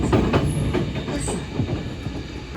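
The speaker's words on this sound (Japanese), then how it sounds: "高架線を爆走します。" A Tokyo Metro Tozai Line subway train rumbles along an elevated track at speed, with rhythmic wheel clatter and a low, heavy roar heard from inside the car, plus faint high squeals.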